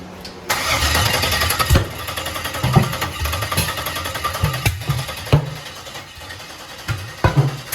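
An LS-powered rat rod cranks briefly and catches, then settles into a loud, rough idle with repeated sharp throttle blips and revs, close by.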